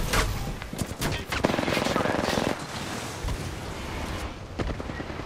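Sustained automatic gunfire in Apex Legends, a steady rattling burst followed by scattered single shots, loud and close amid chaotic battle noise with players talking.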